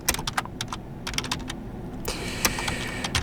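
PowerShell code being typed on a computer keyboard, with quick, irregular key clicks close up, bursts of taps separated by short pauses and a brief flurry near the end.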